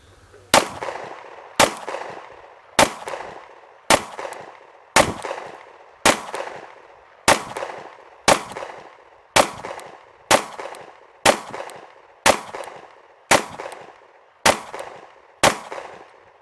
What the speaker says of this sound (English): We're just going to go ahead and put a few rounds on target downrange